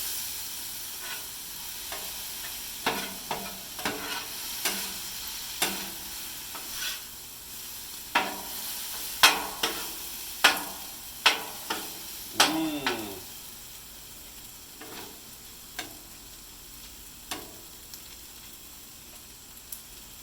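A spoon or spatula stirring teriyaki chicken in a hot frying pan, with steady sizzling underneath and a series of sharp scraping and clacking strokes, loudest in the middle and thinning out later.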